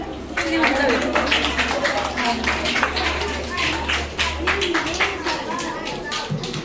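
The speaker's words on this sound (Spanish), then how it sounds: "un aplauso para ellos" A fifth-grade class at a school achievement day claps in a dense, continuous round of applause, with chatter and a low steady hum underneath.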